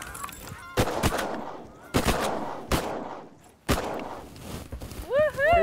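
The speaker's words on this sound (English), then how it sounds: "Nice shooting." Shotguns fire at waterfowl during a family hunt in British Columbia, with several loud sharp blasts spaced across a few seconds and geese honking near the end. People talk and shout between shots.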